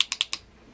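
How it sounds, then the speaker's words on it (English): A handheld dog-training clicker gives four quick, sharp, close clicks in an irregular burst, then falls silent. "It's a training clicker."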